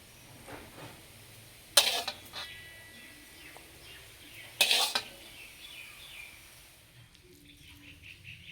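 Note shak greens being mixed in a pot while cooking temple bhog, two sharp metallic scraping clanks of a utensil against the pot amid soft quieter stirring and faint background noise.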